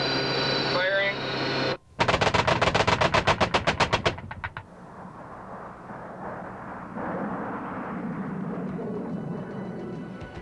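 An airfield air defence artillery gun fires a rapid burst of about a dozen loud, close shots, preceded by a steady engine-like drone and followed by a lingering rumbling roar.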